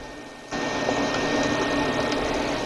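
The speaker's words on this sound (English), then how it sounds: "What I'm doing is I'm pumping this oil out." An oil pump drawing engine oil out of a boat transmission starts abruptly and then runs as a steady, close mechanical whir and hum with no voices.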